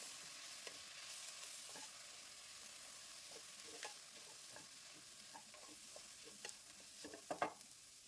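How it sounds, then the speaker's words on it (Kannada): Mint and coriander leaves frying with mutton kheema masala in a pan, a soft steady sizzle with occasional stirring scrapes and light clinks, fairly quiet and close, with no talking. "ಹಾಗೆ ಸ್ವಲ್ಪ ಕೊತ್ತಂಬರಿ ಸೊಪ್ಪನ್ನ ಹಾಕ್ಕೊಂಡು ಇದನ್ನು ಒಂದೆರಡು ನಿಮಿಷ ಫ್ರೈ"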